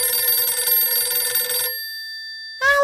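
A telephone rings with a bright electronic trill, loud and alone, in a Ukrainian children's cartoon, cutting off into a lingering tone before a short rising blip.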